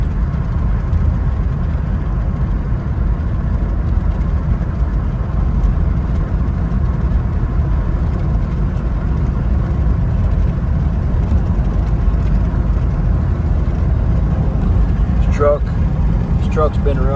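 A 2007 Cadillac Escalade engine runs steadily while driving, a loud continuous low rumble with road noise throughout, and a brief voice near the end.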